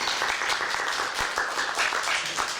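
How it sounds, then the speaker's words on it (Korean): Applause from the audience at a Korean-language speech contest for foreign workers greets the next speaker, a steady, fairly close round of clapping with no talk over it. "박수 부탁드리겠습니다"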